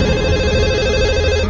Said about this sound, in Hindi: मेरा फोन है।